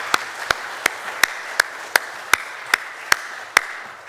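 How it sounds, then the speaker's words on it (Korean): A church congregation applauds the choir with crisp, evenly paced claps, about three per second, that are loud and close over quiet background murmur. "다시 한번 박수를 경례하면 좋겠습니다."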